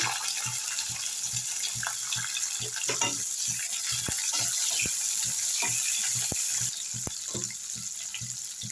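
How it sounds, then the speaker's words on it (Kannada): Ginger and onion frying in a pan for a paneer gravy, a steady loud sizzle with scattered sharp crackles and pops throughout, no voices. "ಇವಾಗ ಶುಂಠಿ ಇವಾಗ ಈರುಳ್ಳಿ ಹಾಕೊಳ್ತಾ ಇದ್ದೀನಿ"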